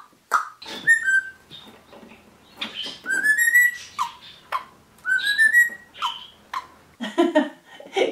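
Bright whistled phrases with rising slides and trills from a pet rosella parrot, several short melodic bursts in sequence imitating a learned tune, close and fairly loud with brief gaps between.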